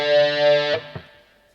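A short distorted electric guitar phrase in the style of a live solo lick: a sustained, saturated note, then a couple of quick lower notes that fade away within about a second. It is heard alone and fairly loud.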